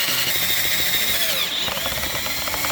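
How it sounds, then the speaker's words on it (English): A power drill whirs steadily and loudly for a few seconds, drilling through an exterior wall to run wires inside, with a slight change in pitch as the bit bites in. "So what I'll do is drill it."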